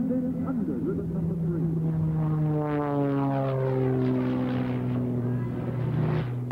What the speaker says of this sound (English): you are watching the aerobatic biplane, the Randolph Challenger of Mr. Sean D. Tucker